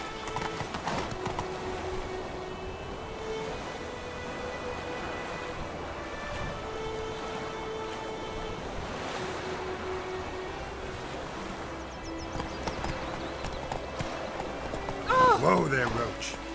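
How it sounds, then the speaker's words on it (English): Horse hooves clip-clop at a steady walking rhythm in Witcher 3, with ambient game sound, a spoken voice and a brief neigh near the end. "Whoa there, Roach."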